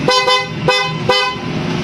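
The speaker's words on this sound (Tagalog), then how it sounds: "Busina, PIAA." A PIAA horn fitted to a motorcycle honks three times in quick succession, loud and close, each blast a bright, buzzy tone that ends abruptly.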